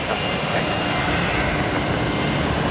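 A Fokker airliner taxis in toward a nearby gate bay at Brisbane Airport at night, producing a steady, close, loud engine whine and rumble that holds constant throughout without talk.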